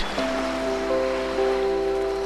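Sea waves wash steadily in the game eXperience 112, a soft continuous surf under a few sustained musical tones, heard alone without talk.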